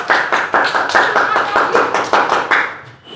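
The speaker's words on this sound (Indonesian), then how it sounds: "Beri tepuk tangan buat Justin." Classroom of students clapping for a classmate, a close, lively patter of rhythmic claps in quick pulses that fades out near the end.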